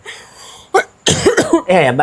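A single short cough, then a person speaking right afterward, close to the microphone.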